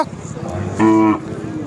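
A cow at a Khillar cattle market in Sangola lets out a short, loud moo of under half a second over busy background chatter and crowd noise.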